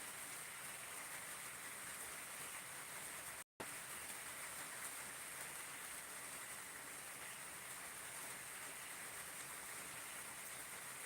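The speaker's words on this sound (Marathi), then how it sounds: "सध्या पाऊस पडत आहे आमच्याकडं" Steady rain pours down in a continuous, even hiss that is broken only by one brief dropout.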